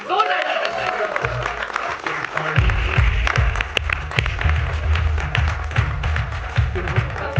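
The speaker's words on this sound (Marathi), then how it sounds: "खूप टाळ्या पडल्या." A large audience bursts into sustained, dense applause at a Marathi film trailer launch for Tumbadchi Manjula, swelling after a couple of seconds and mixed with scattered voices.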